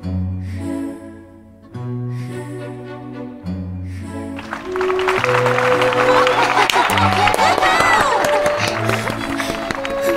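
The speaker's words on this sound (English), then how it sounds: "This is how you clap from an audience, Fontaine." A courtroom audience in the Genshin Impact video game breaks into clapping and cheering after a few seconds of music, the applause swelling loud and continuing to the end with music underneath.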